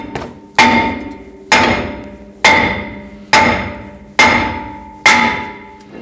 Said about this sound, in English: I'm going to have to use a hammer from the back side, right where the caliper was, and hit it